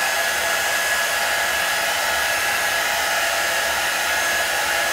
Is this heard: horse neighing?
no